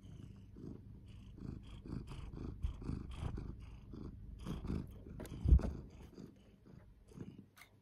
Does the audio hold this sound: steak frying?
no